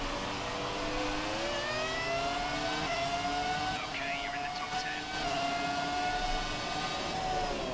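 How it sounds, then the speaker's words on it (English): A V10 Formula 1 car engine in the F1 2017 racing game holds a steady high whine with shifting harmonics, sustained throughout beneath a voice speaking over it. "I absolutely love the V10 F1 cars. My absolute favorite. They sound so good."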